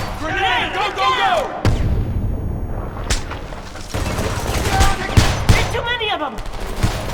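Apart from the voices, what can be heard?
gunfire and machine guns in the video game Homefront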